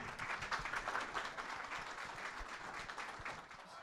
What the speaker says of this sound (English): Round of applause, please, for Nouri Sardar.